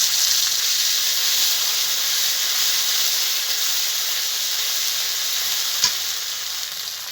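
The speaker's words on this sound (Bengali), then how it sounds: "ফোড়নে দেবো তেজপাতা, গোটা জিরে, এখন এই বেটে নেওয়া মশলাটা দিয়ে দেবো।" Ground spice paste hits hot oil already tempered with bay leaf and whole cumin, giving a loud, steady, close sizzle with a hissing, steamy texture throughout. A faint knock sounds near the end.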